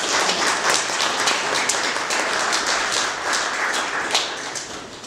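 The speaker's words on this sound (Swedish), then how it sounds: "Ge en varm applåd till eftermiddagens programledare Katarina Hultling." A crowd gives a warm welcome for a host at Örebro Castle with dense, steady applause, many hands clapping at once and staying loud for the whole stretch, no voices.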